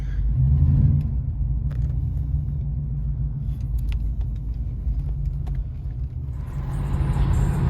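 A car engine hums steadily with low road rumble throughout, loud and close, as if heard from inside the moving vehicle.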